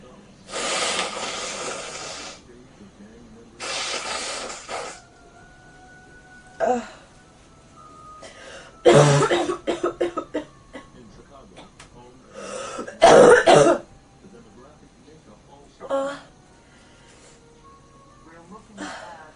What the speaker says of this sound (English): Sounds like a cough and sneeze.